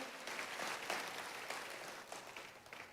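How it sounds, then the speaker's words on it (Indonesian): A church congregation applauding during a sermon, a steady wash of many hands clapping at moderate distance, fairly faint and sustained for a few seconds without speech. "Tepuk tangannya yang paling meriah buat Tuhan kita."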